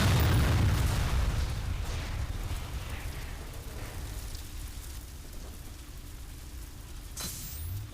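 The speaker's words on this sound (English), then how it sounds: "get an aim on the fuel barrel that's conveniently placed near them, and bang." A fuel barrel explodes in the game F.E.A.R. Extraction Point, opening with a loud, deep boom that decays into a long rumbling tail, followed later by a sharp crack.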